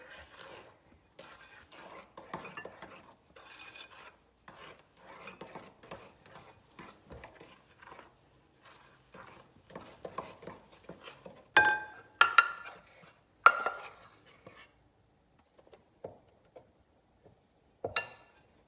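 Dry ingredients stirred into dairy-free chocolate chip cookie dough in a bowl, a run of irregular scraping and clinking taps, with a few louder knocks toward the end and brief pauses between strokes.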